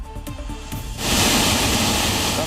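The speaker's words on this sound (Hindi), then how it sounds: "सैलाब का जोर और शोर दोनों ही डराने वाला है।" The flooded Tamsa river roars beside the Tapkeshwar temple in Dehradun, a sudden loud rushing surge of water that swells after a second and holds as a dense continuous roar.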